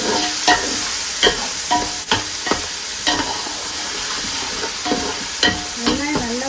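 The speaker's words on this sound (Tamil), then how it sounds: "வெங்காயம் நல்லா ப்ரௌன் கலர்னு ஆகிட்டு இது நல்லா குழஞ்சி வருது" Onions fry and sizzle in oil for a spicy Chennai crab curry, broken by about a dozen sharp scraping strokes of a spoon stirring the pan, close and loud, with no talking.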